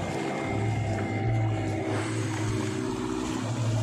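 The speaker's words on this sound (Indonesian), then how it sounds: "Dan itu kapal mau berangkat untuk cari ikan." A fishing boat's engine hums steadily as the boat departs from Sadeng beach pier, a loud continuous drone with a low rumble and droning tones.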